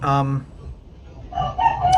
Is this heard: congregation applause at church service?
no